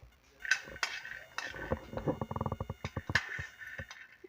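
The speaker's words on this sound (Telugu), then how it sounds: "అందులో పల్లీలు ఒక పిరికడు తీసుకొని ఇందులో అయితే వేయించుకుంటున్నా" Peanuts dry-roasting in a pot on a stovetop give off a rapid series of close, light rattles and clinks as they are moved about, with no talking.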